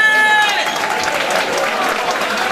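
A party crowd applauds their own chef, a loud, dense burst of clapping that fills the room throughout, with a brief tonal sound at the start and voices mixed in.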